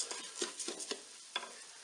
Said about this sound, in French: Je vais mélanger avec mes oignons.